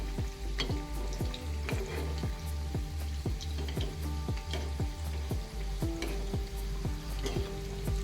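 Cabbage manchurian balls deep frying in oil make a continuous dense bubbling sizzle, close and even, with an irregular patter of popping bursts throughout and no talking.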